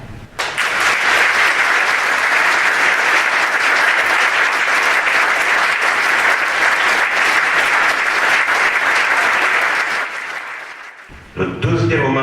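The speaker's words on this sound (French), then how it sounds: "en les remerciant et en leur offrant nos plus beaux applaudissements" Loud, sustained applause from an audience at a mayor's evening address in Cesson fills about ten seconds, dense and even, then fades as a voice resumes speaking.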